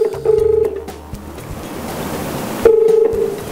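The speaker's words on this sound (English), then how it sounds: "now I'm going to be a customer making a call into our Cloud PBX" A customer's call into a cloud PBX that launches a WebRTC phone in a contact center: two short bursts of dialing tones, one at the start and one near the end, over a rushing, wavelike background hiss.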